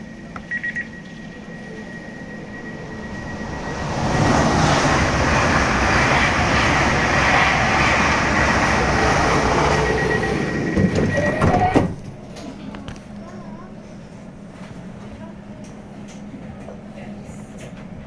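An Elizabeth line train runs toward West Ealing, a loud steady rumble and roar that builds around four seconds, holds, then drops sharply near twelve seconds to a quieter interior hum.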